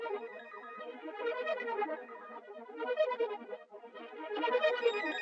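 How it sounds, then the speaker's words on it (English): Synth phrase from the Lynette sample kit, a shimmering, wavering melodic line with a brief dip near the middle before swelling again, heard alone at moderate level. "the first thing I actually started with was this synth phrase from Lynette"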